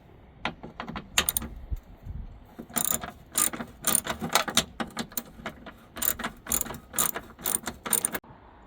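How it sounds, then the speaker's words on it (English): A ratchet with a 10mm socket clicks in rapid bursts while screws are removed from a Dodge Grand Caravan fender near the side marker light, with close, crisp repeated ratcheting strokes separated by short pauses. "For this you will need a 10mm socket and a ratchet just to remove these guys."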